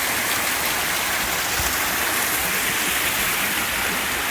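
Rushing water from a waterfall and stream in West Virginia's New River Gorge forms a steady, loud, broadband roar that holds unchanged throughout, with no voices.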